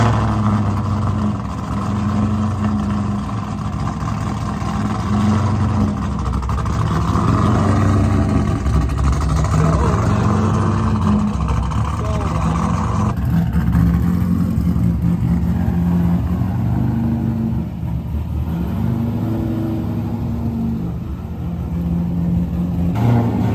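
A C8 Corvette fitted with an AWE Track Edition exhaust starts cold and settles into a loud, steady, deep idle that drones on for a long stretch, with a slight shift in tone partway through.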